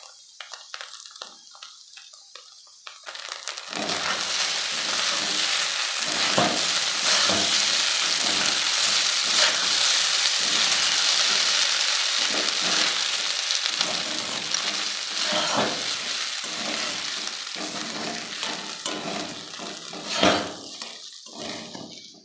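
Chira pulao with ghee sizzles steadily in a pan while being gently stirred, a continuous close frying hiss with soft scraping strokes throughout, following a brief quieter start.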